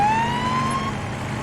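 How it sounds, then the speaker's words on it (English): Police siren from the Police Simulator: Patrol Officers video game, a steady rising wail heard briefly and loud over low engine rumble. "because we had the siren on for a second?"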